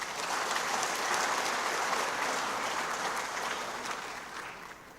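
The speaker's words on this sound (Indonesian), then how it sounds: "Dari tadi kok tepuk tangan terus." Sustained audience applause fills a hall at an Indonesian organisational national working meeting, steady and dense for several seconds before thinning slightly toward the end, with no talk over it.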